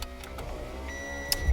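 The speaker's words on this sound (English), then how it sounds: "I'm going to roll up my car windows." A car's electric power window motor whirs close by as the glass rolls up, a brief steady hum ending with a soft thud as it seals, with no talk.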